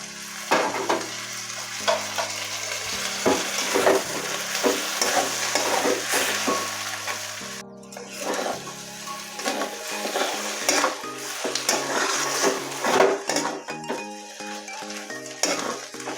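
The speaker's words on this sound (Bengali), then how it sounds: "এটাকে ভাজতে ভাজতে ঝুরঝুরে করে নেব" Fish roe frying in a pan while being broken up into crumbles, with continuous sizzling and frequent rhythmic scraping and clattering of a utensil against the pan, close and busy throughout.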